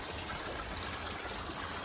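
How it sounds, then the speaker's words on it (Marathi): A stream flows near a farm field, a steady, soft wash of running water, faint and distant, constant throughout with no voices. "इकडे ओढं लागलं वाहायला मस्त"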